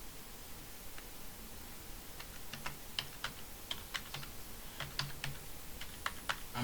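A password being typed on a computer keyboard: soft, irregular key clicks in short bursts, faint and close against a quiet background hiss, with no speech.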